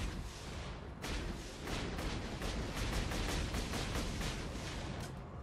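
Rapid, dense bursts of Borderlands 2 gunfire roar continuously, loud and close, with a brief dip before the shooting resumes in a steady rattling stream.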